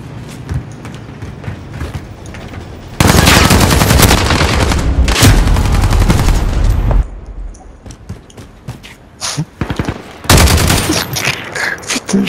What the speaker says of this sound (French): je tire en l'air